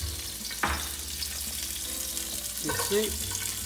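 Small or yellow onions frying in a tablespoon or two of oil in a pan for a chicken fricassée, a steady close sizzle with a couple of stirring scrapes and clatters, without speech.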